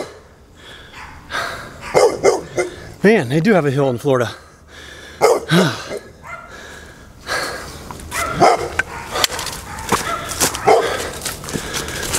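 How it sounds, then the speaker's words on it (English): A pit bull type dog barks and growls along the Florida Trail, with intermittent barks and a wavering vocal sound mixed with someone talking over most of the stretch. "I thought that dog was going to attack me. I looked like a pretty ferocious pit bull type of dog."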